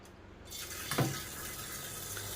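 Water from an RO purifier tap pours steadily into a pot of soaked chickpeas, a continuous rushing stream with a brief splash as it lands, close and alone.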